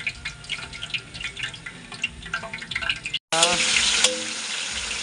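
A bay leaf drops into hot oil in a kadhai, setting off a sudden loud, close sizzle that follows a stretch of talk and quieter kitchen sounds.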